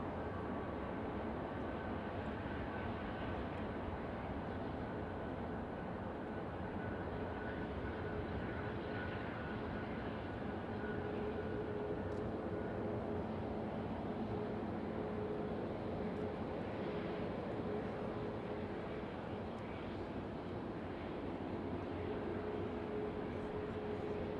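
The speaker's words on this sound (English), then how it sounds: "noisy airplane you can hear is a Virgin Atlantic Airbus A330 that's just arrived from Atlanta" A Virgin Atlantic Airbus A330 arriving from Atlanta gives a loud, steady jet roar that fills the whole stretch without letup, with no talk over it.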